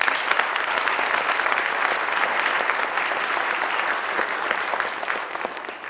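A room full of people claps steadily and loudly, a dense continuous applause lasting the whole stretch without pause.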